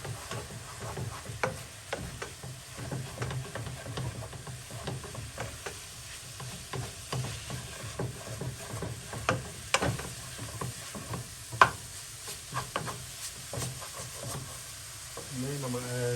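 Ground beef and vegetables fry in a pan with a steady soft sizzle, broken by scattered clicks and taps of stirring, fairly quiet and close, with no talking.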